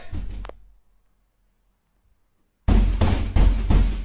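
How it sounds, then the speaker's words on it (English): Loud banging pounds on a bedroom door, a heavy burst of repeated thumps arriving after a short stretch of near silence, preceded by a brief muffled sound. "Then loud banging sounds can be heard echoing off his bedroom door."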